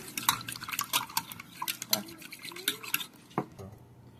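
A fork or whisk scrapes and clinks steadily against a pan while stirring mushroom and onion gravy for hamburger steak, with quick irregular metallic taps and a low background hum.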